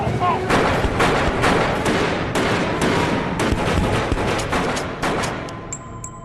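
Rapid gunfire in a gangster film fight, dense volleys of loud shots and booms over several seconds with a faint voice underneath.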